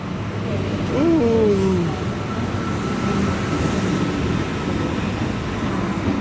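Inside an intercity train, a steady low rumble of the moving carriage runs throughout, with a brief rising-and-falling tonal whine near the start.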